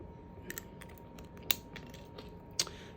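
An acrylic nail tip is cut with a nail tip cutter, producing a few sharp, quiet clicks and snips spaced about a second apart over a faint background hum.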